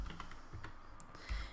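Soft clicking of keys typed on a computer keyboard, a quick irregular patter of taps at close range with no voices.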